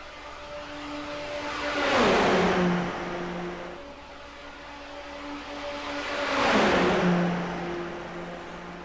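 Race cars in the Daytona racing video game sweep past twice, each engine swelling to a loud roar with a falling pitch as it goes by, while a steady engine hum carries on between the passes.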